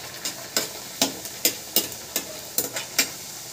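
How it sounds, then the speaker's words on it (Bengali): Bengali green pea kachori, a vegetarian snack, frying in oil over low heat, giving a steady sizzle broken by about a dozen regular sharp stirring or splashing bursts, close and clear with no talk. "আমি আরেকটা কচুরি ছেড়ে ভেজে তোমাদেরকে দেখিয়ে দিচ্ছি"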